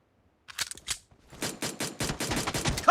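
Pistol gunfire in a video game rings out in a rapid string of sharp, loud shots, a few spaced reports first, then a dense near-continuous burst.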